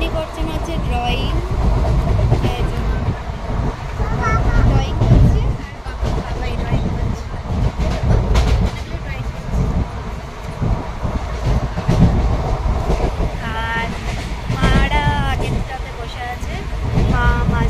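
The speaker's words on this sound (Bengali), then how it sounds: "আমরা ট্রেনে উঠে পড়েছি।" A passenger train runs along the rails with a steady rumbling roar and intermittent clatter, heard from inside a carriage, with people talking and calling out over the noise throughout.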